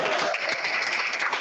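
A brief, steady burst of audience applause at a Wikimedia affiliates welcome session, many hands clapping together for a moment.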